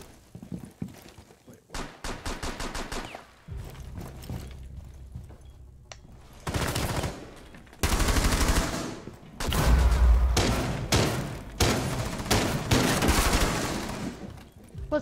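Gunfire rings out in an online shooter game, with bursts of rapid automatic fire and single shots coming in clusters, some close and loud, others farther off, mixed with a few sharp impacts.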